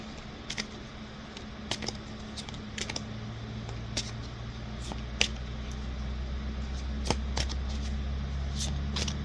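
Tarot cards shuffled by hand in soft, irregular riffling bursts and taps, close and fairly quiet over a steady low hum.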